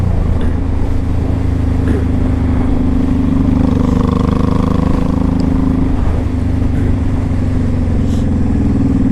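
A 2005 Honda Shadow Sabre 1100 motorcycle engine running while riding, a loud, steady, deep low rumble heard up close with little change in pitch and constant wind noise throughout.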